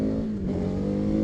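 A 2024 KTM 1290 Super Adventure S with a 1301cc V-twin engine accelerates, its loud, close, steady growl rising slightly over about a second.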